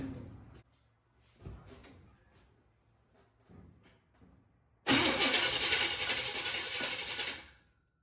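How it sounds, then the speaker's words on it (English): A car engine cranks over to pump fuel, a loud, harsh, steady starter churn lasting nearly three seconds and then dropping off, preceded by a few quieter clunks and handling noises. "we're gonna spin it over now and see if we pump some fuel out"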